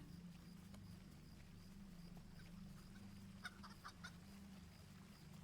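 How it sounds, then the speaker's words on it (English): Chickens in the video game LOTRO (Lord of the Rings Online) run loose and cluck in soft, scattered calls over a constant low in-game drone, with a few brighter clucks bunched together past the middle. "Lots of chickens running around free."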